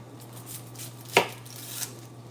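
A knife cuts onions on a board, one sharp prominent chop with a couple of fainter knocks around it over a low steady hum, no talking.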